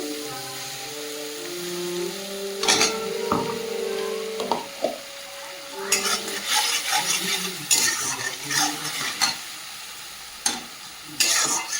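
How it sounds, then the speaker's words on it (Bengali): Chopped tomatoes and ground spices hiss and sizzle in a hot pan, with a spoon scraping and stirring in bursts and a few clinks of cookware. "দিয়ে ভালোভাবে ভেজে নেবো"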